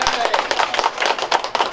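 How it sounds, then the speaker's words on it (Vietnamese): Applause from a crowd at a Buddhist temple ceremony for casting a great bronze bell, a steady wash of many hands clapping close by with no pauses. "Vỗ tay."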